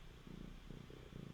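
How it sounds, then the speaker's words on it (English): A cat purrs right into a microphone, a soft rhythmic rumbling in short pulsing cycles, very close but quiet, with no talking over it. "You're purring into the mic as well."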